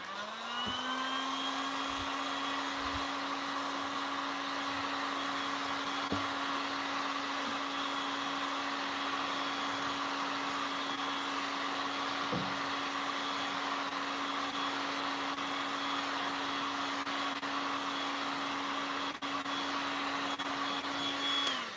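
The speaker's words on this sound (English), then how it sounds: "I'm going to go ahead and dry this using my heat gun" A heat gun dries a resin coat on painted furniture, blowing as a continuous, steady whirring whine that runs unbroken for over twenty seconds.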